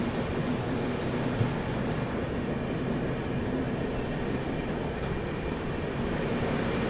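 The Lingampalli–Kakinada Port Gowthami superfast express runs with a loud, continuous rumble of wheels on rails, steady clatter and brief high-pitched squeals, heard from nearby without any talk.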